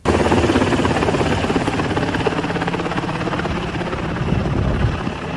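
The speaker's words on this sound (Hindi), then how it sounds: "अमेरिकी हेलीकॉप्टर पर तालिबान का झंडा लगाकर आसमान से बधाई संदेशों की बारिश की जा रही है।" An American military helicopter flies over Afghanistan with a Taliban flag attached, its rotor thudding loud and steady throughout, close overhead and alone.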